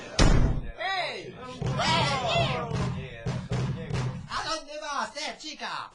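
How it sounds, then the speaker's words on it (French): A door bangs shut with a single loud, heavy thud at the start, followed by animated voices and squealing cries. "Fermez la porte!"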